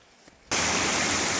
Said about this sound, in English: we're just down at this little creek here doing some pans